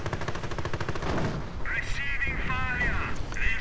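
In a real-time strategy game battle, an anti-tank gun fires on a Panzer IV amid rapid bursts of gunfire and sharp mechanical effects, with continuous talk over the action.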